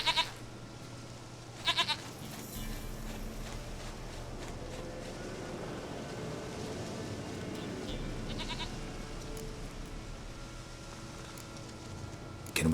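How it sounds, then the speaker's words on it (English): Goat bleating in The Witcher 3 video game, several bleats breaking through a steady ambient bed at moderate loudness, with a faint voice in the background. "Goat of mine, dearest,"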